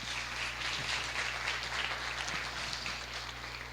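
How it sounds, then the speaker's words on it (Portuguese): An audience at a church youth gathering applauds in a steady, even wash of many hands clapping, moderately loud and continuous from start to finish, with no voices. "Uma salva de palmas para o Hugo."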